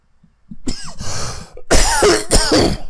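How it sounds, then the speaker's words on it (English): Two or three harsh, close coughs, a quieter one followed by louder bursts, with throaty rasp between them. "Cough."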